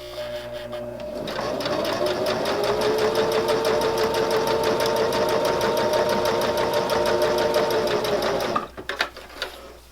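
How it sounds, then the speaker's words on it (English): A sewing machine topstitches straight across a fabric silverware pocket, running in one steady, loud, even burst for several seconds before stopping, followed by a few small clicks. "I'm going to stitch all the way across"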